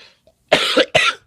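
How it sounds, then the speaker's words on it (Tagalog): Two loud, close coughs in quick succession from a person, with a brief faint throat sound just before them. "ay, nubo tayo."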